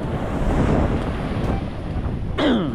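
Sea waves wash against the shore under strong wind, a dense, continuous rush with heavy buffeting on the microphone and a brief whistling tone near the end.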